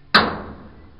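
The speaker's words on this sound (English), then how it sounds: "give it a good tap." A single sharp metallic tap from a hammer striking a clamped angle iron pole, loud and close, with a short ringing decay afterward.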